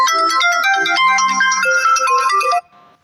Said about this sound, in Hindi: तो अभी ये फोन आ गया